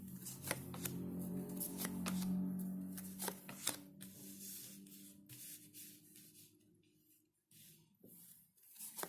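Tarot cards being shuffled, a quick run of crisp riffling snaps and papery rustles that thins out toward the end, over a low steady hum.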